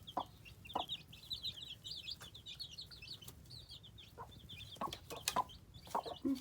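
A brood of eleven young chicks peeps and cheeps constantly in a high chorus while drinking, with a few louder clucks and small knocks close by.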